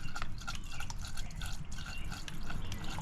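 Engine flush liquid pours into a car engine whose oil is at least 5,000 miles and five years old, a close, continuous gurgling and trickling stream without talk.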